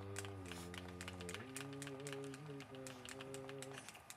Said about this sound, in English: You can hear a lot of clicking going on.